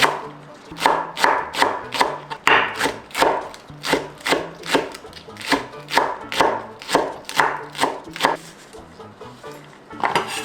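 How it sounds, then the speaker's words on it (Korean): Knife finely chopping 90 g of green onions on a board, a steady run of crisp, evenly spaced chops close up, with no talk. "파 90g 이렇게 송송 다져볼게요"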